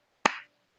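A single sharp hand clap or snap-like smack, close and fairly loud, with a short fading tail, standing alone in an otherwise quiet room.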